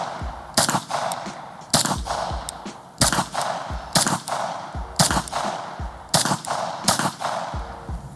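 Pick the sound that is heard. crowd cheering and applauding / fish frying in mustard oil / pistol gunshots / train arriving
pistol gunshots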